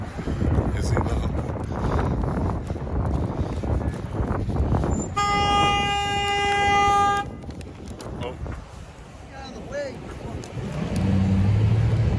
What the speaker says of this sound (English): Did you hear that asshole honk at me?